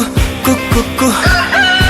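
Clucking and crowing rooster effect in a Bhojpuri song, repeated rhythmic fowl calls laid over loud music.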